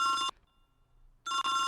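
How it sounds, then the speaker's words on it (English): A telephone rings in two loud electronic bursts separated by a short silent gap, close and clear with no voices over it. "Answer the phone, Molly."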